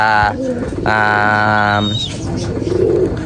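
Racing pigeons coo in low, rounded bursts, a couple of long drawn-out calls close by with faint chirps and background murmur.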